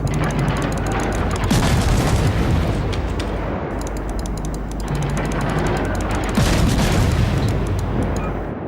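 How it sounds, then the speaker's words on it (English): Heavy naval gunfire in a ship battle video game, booming blasts over a continuous rumbling battle din, with louder bursts around the second and seventh seconds. "Pretty accurate for a blind shot there."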